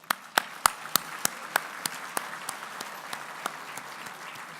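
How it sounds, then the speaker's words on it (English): A crowd at a chamber of commerce annual dinner claps in a burst of applause that starts strong with sharp individual claps, then thins and fades over a few seconds. "Let's give them a round of applause."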